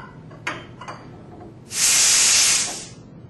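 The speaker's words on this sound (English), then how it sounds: "to blow out any debris or dust that might be inside the O2 tank" An oxygen tank valve is briefly cracked open with a wrench, releasing a loud, sharp burst of hissing gas lasting about a second after a couple of faint metallic clicks.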